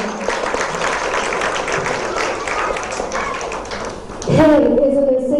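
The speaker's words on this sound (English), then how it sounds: "can we please hear a huge round of applause for him?" Dense crowd clapping fills a celebration hall at a plastic surgery clinic's first anniversary, steady and loud for about four seconds before a voice cuts in and speaks over the fading applause.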